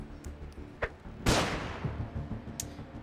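Flashbang grenade going off against a group of enemies in the video game Underrail, a single sharp burst of noise that decays over the next second amid scattered clicks and low game ambience.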